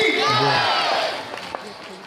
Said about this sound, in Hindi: जोरदार तालियां हम लोग बजाइए